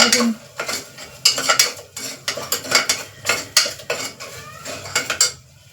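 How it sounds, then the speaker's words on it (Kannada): Rice goes into a cooking pot in a home kitchen, with a close, steady run of rattling, clinking and scraping against the pot and no voices. "ಅಕ್ಕಿನ ಹಾಕೊಳ್ತಾ ಇದ್ದೀನಿ ನಾನು"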